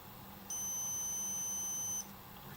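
An Olympus OM10 camera's battery check gives a steady high electronic beep lasting about a second and a half, clear and close in a quiet room.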